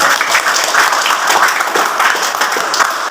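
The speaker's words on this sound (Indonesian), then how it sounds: "Beri tepuk tangan." A university classroom group claps in a loud, continuous burst of applause, many hands close to the listener with no talking over it.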